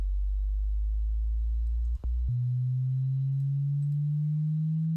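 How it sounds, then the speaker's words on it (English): A clean synthesized sine wave tone made in FL Studio 20 hums steadily, drops out briefly with a click near the middle, then returns as a sustained pure tone gliding slightly upward in pitch. "I'm going to use a sine wave."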